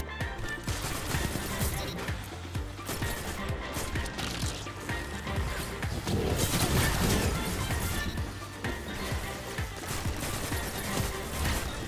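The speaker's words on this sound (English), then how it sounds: "I got scared by a flux grenade." A flux grenade goes off in a multiplayer shooter, a dense stretch of crashing, crackling blasts and gunfire-like bursts that swells in the middle, with faint talk underneath.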